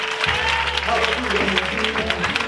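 A church congregation applauding and cheering the Lord, steady clapping and crowd noise mixed with voices and a sustained low musical drone, ending abruptly.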